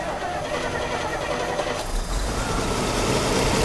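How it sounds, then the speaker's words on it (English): A 1987 Bentley Continental Drophead engine fires up and settles into a steady, smooth run, heard close and fairly loud with a continuous broadband rumble and no speech. "So we'll start this, you can see it run."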